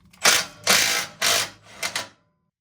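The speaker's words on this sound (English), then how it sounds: "19mm impact gun" A 19mm impact gun backs out a suspension bolt in four loud, close bursts of rattling hammering, each about half a second long, separated by short pauses, with no talk.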